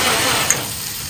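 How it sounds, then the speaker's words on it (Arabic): A loud, steady whirring motor drone close by, a kitchen blender running while garlic and other food is prepared, lasting about a second. "ده صوت الخلاط"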